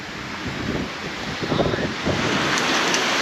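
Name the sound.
rain arriving with a storm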